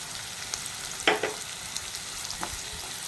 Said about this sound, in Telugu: ఈ ఎర్రగడ్డ ఈ విధంగా ఫ్రై అవుతున్నప్పుడు మనం తీసుకున్న కరివేపాకు అయితే యాడ్ చేద్దామండి